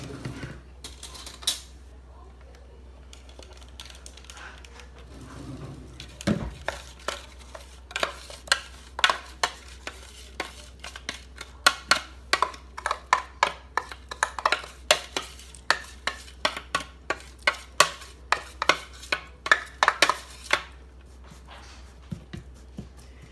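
Oreo cheesecake crust mixed in a bowl, a long run of rhythmic spoon scrapes and taps, close and fairly quick, with a few pauses and no talk.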